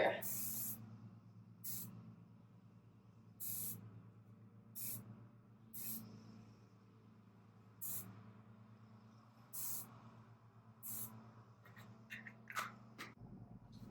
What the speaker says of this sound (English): go ahead and grab your hairspray